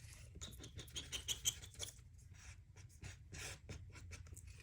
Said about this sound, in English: then I'll just use my scissors to trim it.